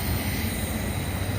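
A steady, broad rumble of a train rolling past up close near a Seattle hiking stairway, with a continuous clattering roar and faint high whine throughout.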